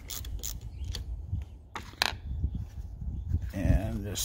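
A ratchet wrench loosens an 8 mm battery terminal nut on a 2012 Ford F150 Raptor, giving a run of close, rapid clicks in short bursts, mixed with some handling noise.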